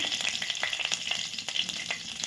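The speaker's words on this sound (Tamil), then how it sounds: "கடுகு பொறிக்க ஆரம்பிச்சது கருவேப்பிலையை போட்டுக்கலாம்" Mustard seeds and curry leaves spluttering in hot oil for goat curry, a dense steady crackle of small pops and sizzle close up, with no voices.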